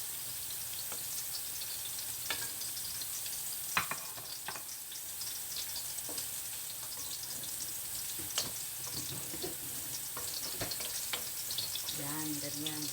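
Ginger sizzles in hot oil in a pan as the start of a Thai green curry chicken, a steady close frying hiss with occasional stirring clatter, and a voice speaks over it.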